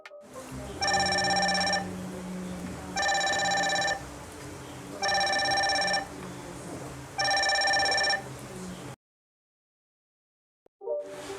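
An Ambrane Wise Eon Bluetooth-calling smartwatch rings for an incoming call in four even bursts of bright electronic chiming over a low background hum, then cuts to silence.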